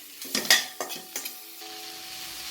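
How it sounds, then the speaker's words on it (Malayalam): Tomatoes stirred into a cooking pan for a homemade masala curry, a few short scraping clatters and sizzling bursts in the first second and a half, then quieter bubbling, close by. "ഈ ടൊമാറ്റോ ഇതിലേക്ക് ഇട്ടിട്ട് ഇളക്കി കൊടുക്കാം"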